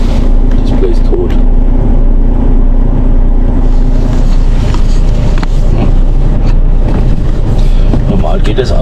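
A truck engine idles inside a workshop hall, a steady low rumble filling the space continuously with broadband noise on top, loud and constant throughout.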